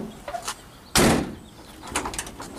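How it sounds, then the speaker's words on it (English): A van's sliding door rolls and slams shut with one loud, close thud, followed by faint chirping birds in the background, no speech. "Sliding door works beautifully."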